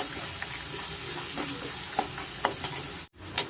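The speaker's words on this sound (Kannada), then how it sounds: "ಸ್ವಲ್ಪ ಚೆನ್ನಾಗಿ ಈ ಥರ ಬಾಡಿಸ್ಕೊಬೇಕಾಗುತ್ತೆ" Puliyogare rice being sautéed and stirred in a pan: a continuous sizzling hiss with occasional scraping stir strokes, close-up and steady.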